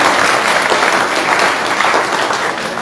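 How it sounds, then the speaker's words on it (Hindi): Loud, dense applause from a large village crowd at a welcome event, steady clapping filling the whole stretch before easing off slightly at the close. "एक बार जोरदार तालियां भाई साहब।"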